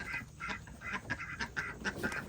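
Farm ducks quack in a rapid, repeated run of nasal calls, several birds close by and moderately loud, with no talking.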